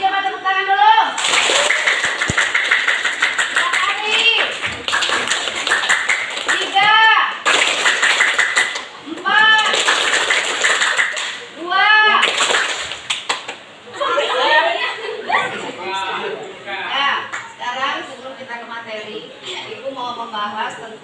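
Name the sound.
children clapping hands in a classroom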